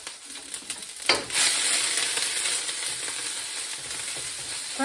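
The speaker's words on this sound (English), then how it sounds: "with a wooden spatula, you can start stirring the paste with ham" Khmer curry paste with ham is stirred with a wooden spatula in a hot pan, frying with a steady, close sizzle that swells after a brief scrape and holds for several seconds without talk.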